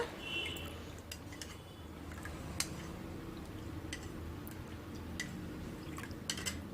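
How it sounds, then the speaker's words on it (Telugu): A spoon stirs custard powder into water in a bowl, giving soft irregular clinks and scraping ticks over a low steady background, close and fairly quiet, with no talking. "చూసారా ఇలా కలుపుకోవాలి ఉండలు లేకుండా"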